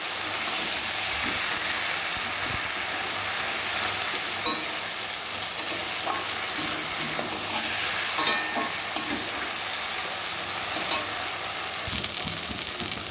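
Taro stolons stir-fried with mustard paste in a pan, a continuous close sizzle with light scraping and stirring noises running through.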